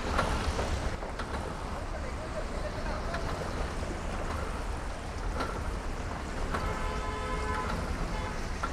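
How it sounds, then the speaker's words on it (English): A restored original Vespa scooter engine runs just after starting, giving a steady, moderately loud broadband drone throughout, with faint voices in the background. "scooter start ho gaya"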